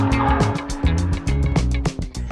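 A BMW M4 Competition drifts on a race track, its engine revving and wavering while the tires squeal, loud and close throughout.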